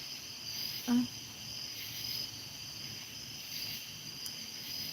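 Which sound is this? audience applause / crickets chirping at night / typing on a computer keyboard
crickets chirping at night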